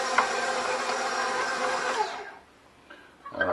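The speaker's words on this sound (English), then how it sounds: "Now it's off to the stand mixer." A stand mixer whirs steadily as it churns a gyro meat mixture, a close, even motor drone for about two seconds before it winds down and stops, followed by faint clatter.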